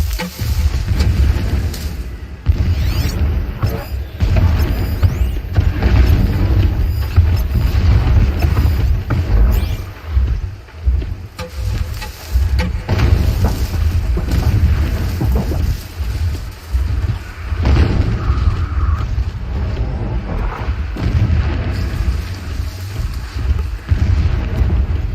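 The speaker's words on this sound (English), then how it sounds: "explosions in the distance" Distant explosions and deep rumbling booms roll through a continuous low, wind-like ambience in the video game Horizon Zero Dawn, steady and fairly loud with several heavier thumps, no talking.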